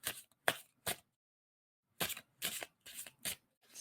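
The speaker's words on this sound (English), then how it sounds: "tell me when I should stop shuffling on that." Tarot cards being shuffled in a run of crisp riffling bursts: three quick ones, a pause of about a second, then four more, close and alone with no voices.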